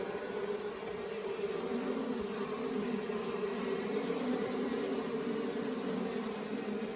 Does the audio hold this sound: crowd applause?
no